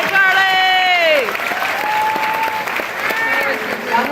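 Applause rolls on through a kindergarten graduation audience, a sustained crowd of clapping with a voice calling out loudly over it near the start and chatter carrying on beneath.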